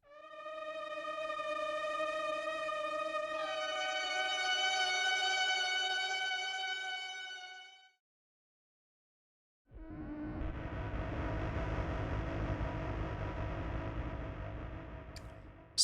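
Glitchy granular synthesis built from short samples and a small grain window: a sustained buzzy harmonic tone that shifts pitch midway, cuts to silence, then returns as a dense, noisy, crackling granular texture.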